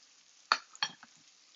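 A utensil stirs escarole and beans in a pan, giving two sharp scraping strokes and a softer tap against a faint background hiss. The sounds are close and brief, with quiet between them.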